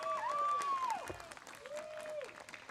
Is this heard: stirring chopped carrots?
no